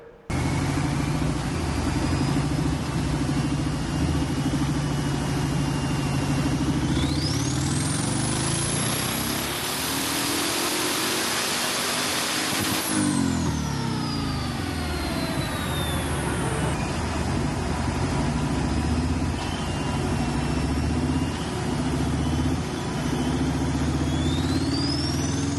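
Turbocharged Harley-Davidson engine pulling on a dynamometer, a steady loud drone that climbs into a long high-revving run with a rising turbo whistle, then settles back down, heard alone and up close.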